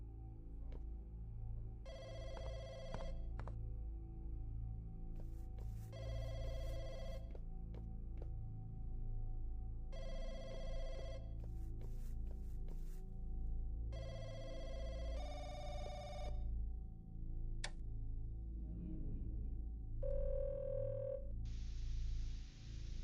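A public telephone rings in repeated bursts with short gaps between them, loud over a steady low background hum, with no talk.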